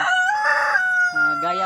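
A rooster crows loudly and close by, a single drawn-out harmonic call that rises and falls.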